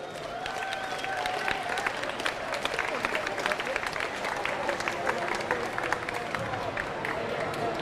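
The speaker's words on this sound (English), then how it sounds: "Please, one last round of applause for everyone involved with today's event." Crowd applause at a youth and junior lead climbing finals in Queensland, scattered distinct claps over a moderate crowd with some voices mixed in, lasting several seconds.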